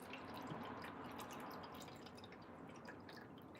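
Distilled water pours steadily into a household device, a constant close trickle and splash lasting the whole stretch at low volume.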